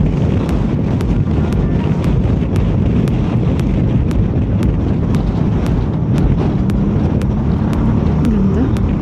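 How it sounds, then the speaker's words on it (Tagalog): Strong mountain wind roars and buffets the microphone continuously during a Kymco Xciting 400 scooter ride in zero visibility, loud and steady throughout, with a low rumbling gusting texture. "Oh my God, ang lakas ng hangin."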